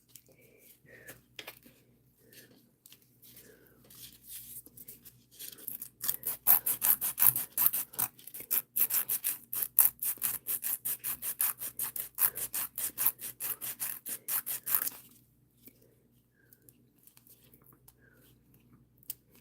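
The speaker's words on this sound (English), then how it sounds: "I figured filing it would get it off." A nail file rasps cured base coat off a sandwich dual nail form in rapid, rhythmic, close-up back-and-forth strokes for about ten seconds, with quiet talk before and after.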